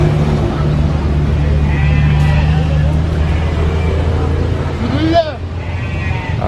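A three-legged goat gives a short bleat near the end over a steady engine drone, with a voice talking earlier.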